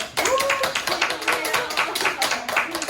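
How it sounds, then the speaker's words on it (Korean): A small audience at a Jeunesse Global basic seminar claps, with sparse individual hand claps landing in an uneven rhythm. A voice briefly sounds through at times. "박수 좀 주세요"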